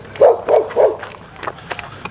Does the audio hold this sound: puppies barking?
yes